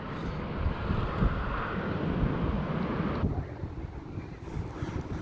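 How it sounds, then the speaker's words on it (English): Strong gusts of roughly 50 mph wind buffet the microphone on a lakeside fishing outing, a steady loud roar throughout with no talking. "It's so windy."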